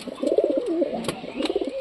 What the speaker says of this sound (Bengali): এই যে এই কবুতরটার জোড়া আবার দেখো